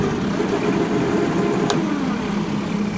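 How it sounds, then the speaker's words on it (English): A compact tractor (2210) runs with its mower deck spinning on the mid PTO, giving a loud, steady engine drone with a whirring tone and a single sharp click partway through. "and the mower deck will spin"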